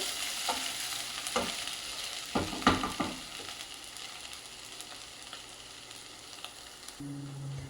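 Potato fry crackles in a pan, a busy sizzle with a cluster of spatula scrapes early that thins into a calmer, steady frying hiss, close and moderate with no speech.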